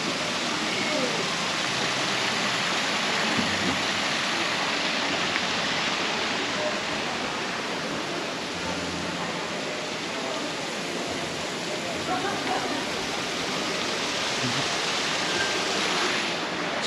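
Steady, broadband rush of falling water, continuous and fairly loud throughout, from a nearby waterfall at Camp John Hay, Baguio, Philippines, with faint voices mixed in underneath.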